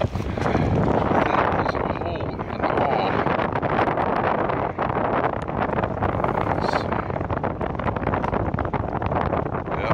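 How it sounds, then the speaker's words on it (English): Strong wind blowing on a cold winter day at an outdoor camp, a steady loud rushing roar buffeting the microphone for the whole stretch, with no pause. "yeah, it's windy and it's freaking cold."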